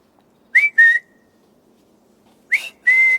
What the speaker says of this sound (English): You whistled, my lord.